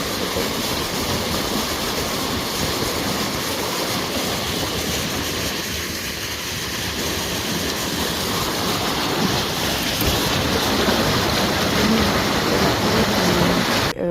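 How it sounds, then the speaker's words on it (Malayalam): River water rushing in through the opened sluice of a prawn pond at Kadamakkudy, a loud, continuous, close roar of flowing water that holds steady without a break. "കെട്ടിൻ്റെ തൂമ്പ് തുറന്ന് പുഴയിൽ നിന്ന് വെള്ളം കയറ്റും"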